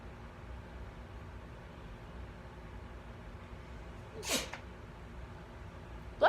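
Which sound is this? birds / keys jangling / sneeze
sneeze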